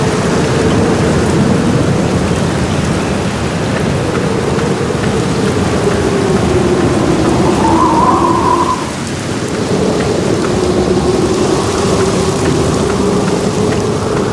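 Heavy rain pours in a loud, unbroken roar while thunder rumbles low underneath in the video game The Black Mirror, a steady storm with no voices.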